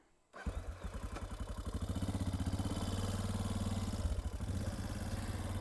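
A Suzuki DR650 single-cylinder motorcycle engine starts up after a brief silence and runs with a steady, loud, throbbing pulse, held close by, with no talking.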